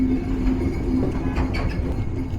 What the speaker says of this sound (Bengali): আমাদের ট্রেন প্রবেশ করে গেল তার যাত্রাবিরতি স্টেশন টাঙ্গাইল জেলার মির্জাপুর উপজেলার মির্জাপুর রেলওয়ে স্টেশনে